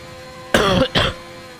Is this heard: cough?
yes